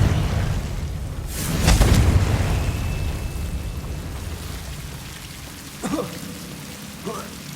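A Confringo blasting spell bursts loudly in Hogwarts Legacy, a single broad explosive blast followed by a fading rumble, with a couple of smaller sharp pops later over a constant background hum.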